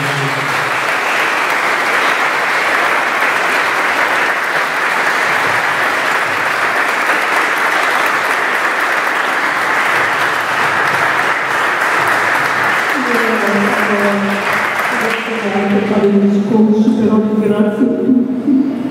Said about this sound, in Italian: Un bel applauso ai familiari.